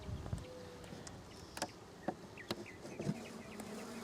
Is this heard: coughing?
no